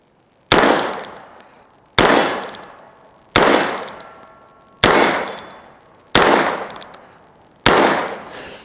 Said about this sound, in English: shoot a little single action revolver